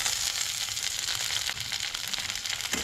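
Garlic, green chillies and curry leaves sizzle in a pan for a Goan mixed vegetable stew, a close, dense and steady frying hiss with faint stirring underneath.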